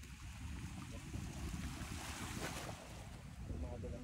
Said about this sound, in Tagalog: Kalmado lang yung dagat, sarap, resto rito.